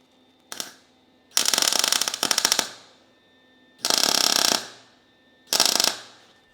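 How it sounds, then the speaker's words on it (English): Clamps being cranked down on rear cab mounts for a Chevy C50 truck, heard as four loud bursts of rapid ratcheting, each about a second long, separated by short pauses and one brief click at the start. "Now I will clamp those down."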